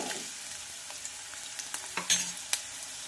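Curry leaves and onion fry in hot oil for chana masala, a bright continuous sizzle with small crackles and a few sharp spatula clinks near the end.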